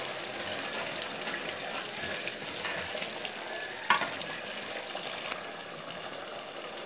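Keema mince cooking in a karahi with ginger paste, a soft continuous sizzle and bubble under occasional spoon stirring, with one sharp clink of metal partway through.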